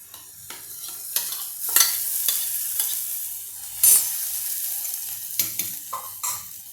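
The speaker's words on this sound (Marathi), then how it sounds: "आता यात आपण ही आमटी घालतो आहे" Cooked toor dal is poured into sizzling ground masala in a pan and stirred, giving a soft frying hiss broken by irregular scraping and splashing bursts, close and fairly loud with no talking.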